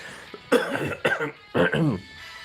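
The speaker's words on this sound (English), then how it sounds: "I appear to have a bit of a cough." A few sharp coughs in quick succession, close and fairly clear, separated by short pauses.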